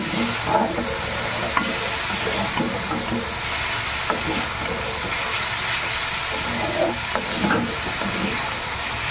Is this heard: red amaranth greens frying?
yes